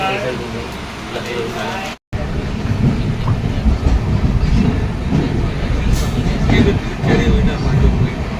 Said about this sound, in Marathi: आता रत्नागिरी रेल्वे स्टेशन सोडलं आहे ट्रेनने